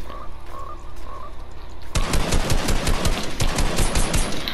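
A frog in a farm-life video game croaks faintly at first, then a rapid burst of loud repeated gunfire hammers in and dominates the rest.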